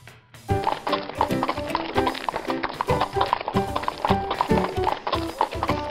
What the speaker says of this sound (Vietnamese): Con ngựa mù.